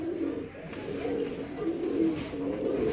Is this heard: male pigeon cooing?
yes